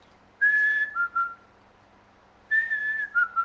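Blue jay calling: two separate bouts of clear, whistled tonal notes, each a sustained note followed by two or three shorter chirps, fairly close and alone against a quiet background.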